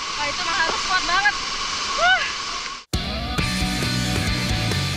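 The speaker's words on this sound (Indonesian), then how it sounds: "Menuruni air terjun bertipe horsetail dengan aliran air yang terus-menerus kontak dengan dinding curug" The horsetail waterfall Curug Lewi Letak, its 15-metre-wide wall of water flowing against the cliff, pours in a constant rush. Brief voice-like calls sound over it before an abrupt cut to a different, busier sound.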